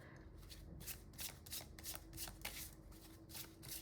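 Tarot cards being shuffled close up, a quiet, rhythmic riffle of repeated papery bursts at roughly half-second intervals, alone with no talk.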